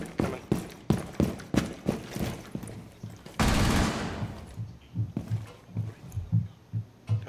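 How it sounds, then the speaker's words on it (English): Gunfire in a Rainbow Six Siege team deathmatch on the Chalet map: rapid bursts of distant, muffled shots in an uneven rhythm, with a loud rush of noise in the middle. "Okay, they're shooting. Just now."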